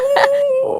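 A human voice imitates a wolf growl, producing one short, loud, close, sustained pitched tone that briefly roughens and then fades.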